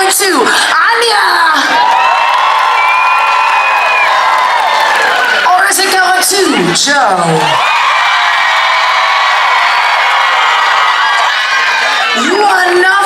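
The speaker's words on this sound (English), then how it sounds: "By round of applause, I need you to tell me who you think should truly go home with a prize here today" A Carnival cruise ship audience whoops, cheers and applauds loudly to vote for a contestant, the roar swelling in waves for most of the stretch while a host speaks over the crowd.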